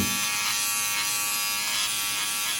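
A Philips OneBlade electric shaver buzzes steadily and close up while trimming a line, a continuous bright hum with slight texture changes as the blade moves over hair, no talking.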